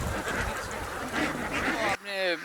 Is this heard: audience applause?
no